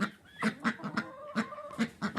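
Ducks kept in a snowy farmyard give several quick quacks close by, in short uneven bursts over a quiet background.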